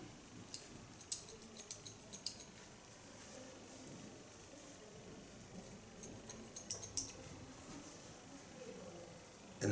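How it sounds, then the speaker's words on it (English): Scissors point-cutting hair for a punky pixie cut give two quick runs of small crisp snips, one early and one later, over a quiet room background. "I want to use a point cut technique"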